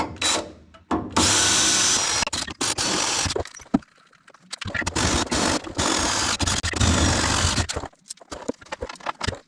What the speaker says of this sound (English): I'm just drilling some holes real fast so we can get her bolted up